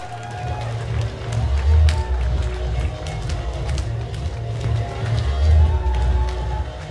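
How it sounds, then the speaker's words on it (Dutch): A crowd at a swimming sprint championship applauds the finalists, sustained clapping and cheering echoing in an indoor pool hall with a low rumble beneath. "En zij verdienen uw applaus"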